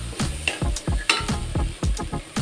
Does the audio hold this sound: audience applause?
no